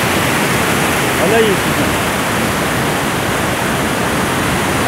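Steady broadband roar of rushing water heard from the top of the Cachoeira da Chave waterfall in Votorantim, loud and continuous, with a person speaking briefly over it.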